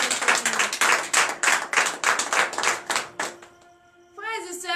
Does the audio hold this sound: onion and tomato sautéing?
no